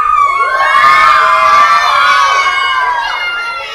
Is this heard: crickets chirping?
no